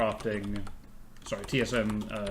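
Quick keystrokes on a computer keyboard come in short bursts while someone talks over them, the clicks close and fairly crisp.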